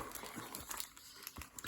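Short bursts of Christmas gift wrapping paper crinkling and rustling as it is torn open close by, in quick irregular handling sounds.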